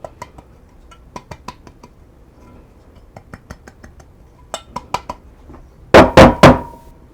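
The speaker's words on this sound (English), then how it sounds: "now we're going to get a little bit of flour into our pan. And then I just like to tap it and get it on all the sides and the bottom." A bread pan dusted with flour for soft sourdough sandwich bread is tapped in a run of light, close knocks and clinks, ending in three louder, sharper bangs.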